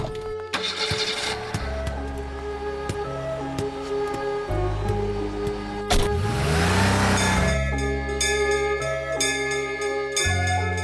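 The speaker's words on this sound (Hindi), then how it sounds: "गाड़ी स्टार्ट करो।" A car engine starts and revs up as the vehicle pulls away, loud and close, with rising engine tones and movie-style music or effects mixed in and no speech.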